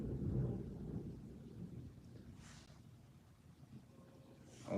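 Rain coming down with rolling thunder, a low rumbling storm heard indoors at a distance, steady and fairly faint, with no voices.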